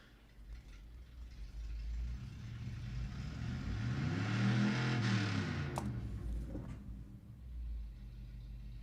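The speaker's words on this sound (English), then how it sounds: "Revving his engine as loud as he can to let everyone know he's cool." A neighbor's car engine rumbles low and swells into a loud, sustained rev, then eases back to idle, heard alone from some distance outdoors.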